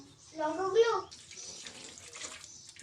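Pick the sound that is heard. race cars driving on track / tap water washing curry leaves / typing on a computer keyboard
tap water washing curry leaves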